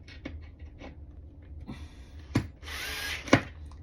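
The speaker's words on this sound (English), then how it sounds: "just drill it." A power drill drives a screw while an IKEA Besta unit is assembled, with a short burst of motor whir near the end amid soft handling knocks and clicks, close and fairly quiet.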